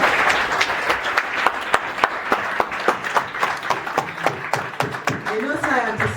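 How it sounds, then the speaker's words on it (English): Audience applause at the launch of Next Wowzi at the Next Media Park, steady clapping from a crowd with sharp individual claps standing out, and a voice speaking briefly near the end. "So clap for me."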